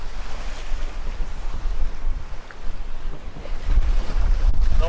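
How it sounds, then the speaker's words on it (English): Gusty wind buffets a sailing boat on cold, rough high seas in the North Atlantic, with steady broadband roar, crashing surf and wind noise hitting the microphone, swelling louder toward the end. "Cold, wet, gusty, high seas,"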